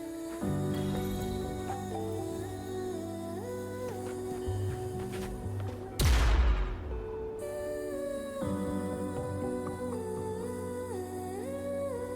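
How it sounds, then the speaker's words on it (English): In the video game Wuthering Waves, a deposit of tacitite fulminate on a cliff detonates in a single sudden, booming blast that rolls off quickly while orchestral game music continues underneath. "Did you see the tacitite fulminate on that cliff? Perhaps we can create an opening."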